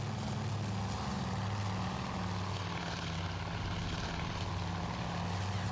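Propeller engine drone of a torpedo bomber in the naval strategy game Task Force Admiral, a steady, moderately quiet buzzing hum with a pulsing low tone held throughout, no speech.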